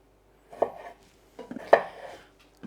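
A knife chops Brussels sprouts on a cutting board in two short bursts of crisp, close cuts separated by a pause, with no talking.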